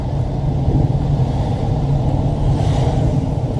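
A truck and road traffic pass steadily on Red Hills Road in Kingston, Jamaica, giving a loud, continuous low engine rumble and road noise with no break.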